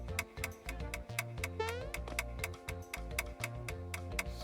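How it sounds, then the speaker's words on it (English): Timer ticking in the Super Mario RPG video game, a quick, even run of sharp ticks repeating steadily throughout, with a brief rising chime partway through, alone without talk. "You can even hear the timer ticking."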